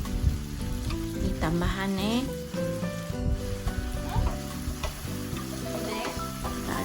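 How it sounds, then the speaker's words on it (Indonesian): Long beans stir-fried in a pan with salty soy sauce sizzle continuously and fairly loud, with scraping stirs throughout, while a voice speaks briefly over them. "kita akan tumis sampai kacang panjang nih setengah masak"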